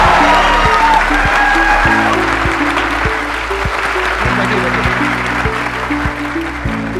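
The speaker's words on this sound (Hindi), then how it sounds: "एक्चुअली हमें उनके लिए आज स्पेशली तालियां बजानी चाहिए।" An audience claps for the show's host, loud continuous applause filling the room over a sustained low musical backing with regular bass thumps, a faint voice now and then under the clapping.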